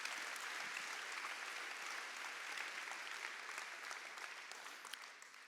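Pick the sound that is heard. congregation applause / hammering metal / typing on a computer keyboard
congregation applause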